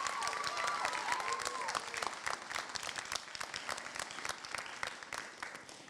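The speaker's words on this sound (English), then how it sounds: "can we please give a round of applause to your families and those that supported you through your walk at NOCCA?" A graduation celebration crowd at NOCCA in 2021 applauding graduates' families and supporters, steady, fairly distant clapping throughout, with a brief whistle-like tone early on.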